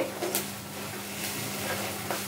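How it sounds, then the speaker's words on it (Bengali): Semolina upma being stirred in a pan, scraping strokes of a spoon against the metal recurring every half second or so over a low sizzle and a steady hum, close and fairly loud, no talking. "আমি এটা সমানেই নাড়তে থাকছি"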